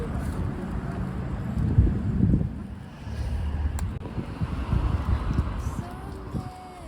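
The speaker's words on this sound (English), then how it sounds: "It's very windy." Steady gusting wind roars and buffets close to the microphone, with low rumbling surges throughout and no clear talk.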